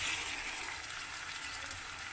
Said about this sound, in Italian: stanno soffriggendo, diciamo, stanno friendo il cipolle